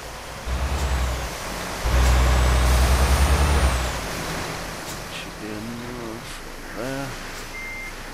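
An Iveco 8x4 heavy truck in Euro Truck Simulator 2 reverses on an oversize haul, its low engine rumble swelling and then easing, with air-brake hiss and faint reversing beeps mixed in, and a voice speaking briefly.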